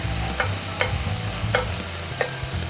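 Bacon rendering in a pan makes a continuous close sizzle, with four evenly spaced taps from a utensil stirring against the pan.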